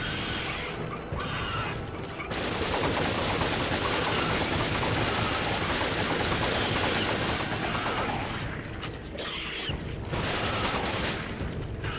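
Sustained gunfire in Resident Evil 5 co-op on PC roars as a dense, loud barrage lasting several seconds, with brief quieter gaps and a second heavy burst.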